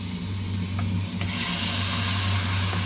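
Pieces of beef frying in a pan, sizzling steadily with a broad hiss while being stirred, producing occasional soft scraping clicks, close and continuous with no voices.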